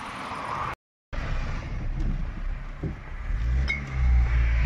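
A car starts and pulls away, a steady mid-range engine rumble after a short silent gap, swelling louder toward the end as it drives off.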